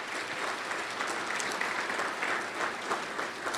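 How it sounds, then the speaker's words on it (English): An audience applauds sponsor Kaiser Permanente at a program with Jack O'Dell and Bob Zellner, steady dense clapping filling the hall without a break. "if anyone is here from Kaiser, give them a big round of applause right here"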